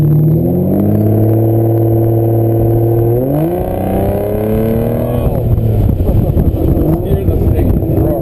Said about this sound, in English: Hear this thing roaring.